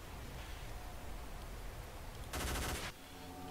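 Gunfire in the game Stalker: Call of Pripyat Misery: a short, rapid automatic burst at middle distance rises out of low rustling background noise, followed by a fainter few shots at the very end.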